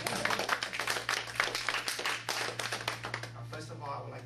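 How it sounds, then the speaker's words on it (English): A small group clapping hands at a testimonial gathering about natural cancer help, rhythmic close claps over a steady low hum, with people talking at the same time. "We clap hands."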